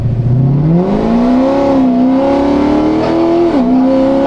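Modified high-horsepower Corvette ZR1 accelerating hard in second gear: a loud, close engine roar climbing steadily in pitch, dipping briefly near the end before rising again.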